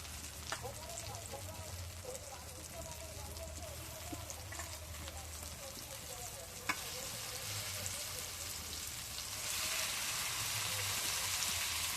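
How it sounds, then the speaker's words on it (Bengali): Spice paste for a country chicken curry fries in oil in a pan, giving a faint, continuous crackling sizzle with occasional stirring scrapes, the sizzle growing brighter and stronger near the end. "মশলাটা ভালো করে কষে নিয়েছি মশলাটাকে তেল বেরিয়ে যাচ্ছে তার মানে ভালো করে কষানো হয়ে গেছে"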